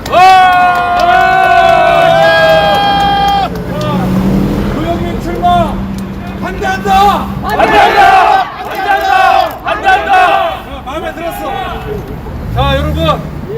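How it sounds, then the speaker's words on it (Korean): Crowd at a press conference clapping and cheering, with loud, close shouts and cheers and scattered bursts of applause mixed with voices. "박수 한번 쳐주세요 네, 소리가 작다!"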